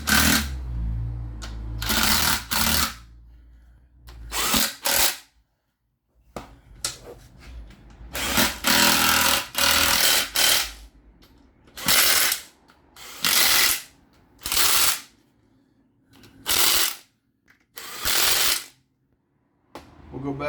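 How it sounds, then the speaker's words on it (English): Ryobi cordless impact wrench working on an LS-swapped 1971 Pontiac LeMans, loud rattling hammering bursts of a second or two each, repeated about ten times with short pauses between. "Got the old Ryobi cordless impact"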